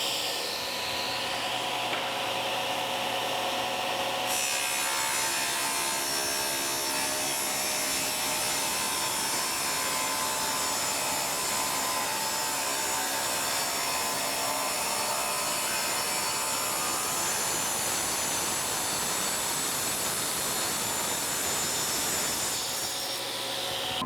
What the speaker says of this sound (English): I'm going to be adjusting the fence just until the saw blade is taking off about 1/8 of an inch